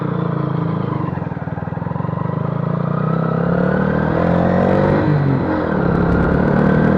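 A Honda CBF125 motorcycle pulls away on the road, its engine rising steadily in pitch as it accelerates, loud and close throughout with no talking.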